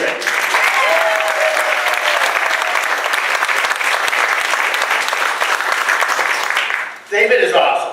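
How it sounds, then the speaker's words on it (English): Audience at a stand-up comedy show for mental health applauds loudly and steadily for about seven seconds, a dense sustained clapping that briefly dips near the end before surging again, with some crowd voices mixed in. "let's have a big round of applause for stand-up mental health and David."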